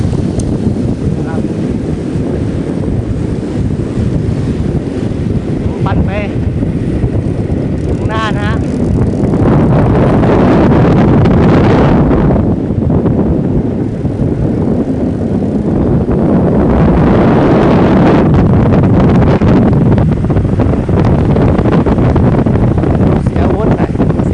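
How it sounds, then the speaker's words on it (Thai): Strong wind buffeting the microphone during a road bike ride near Ubon, a loud continuous roar that swells and eases in gusts throughout, with no talking. "ลมแรงนะขากลับนี่เหมือนจะต้านลมนิดนึง"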